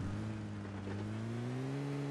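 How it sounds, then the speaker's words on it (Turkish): A steady, low engine drone from a car in PUBG Mobile on the Erangel map, holding an even pitch that rises slightly, with no talking. "Acaba arabanın sesini duymadı mı?"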